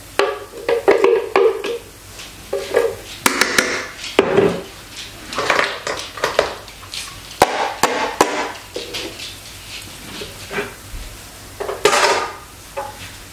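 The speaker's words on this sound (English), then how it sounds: "And then I'm going to stir that in." Metal spoon scraping and clanking against a pot while onion, garlic and seasonings are stirred into homemade pasta sauce, giving repeated close knocks and scrapes in an irregular rhythm with no talk.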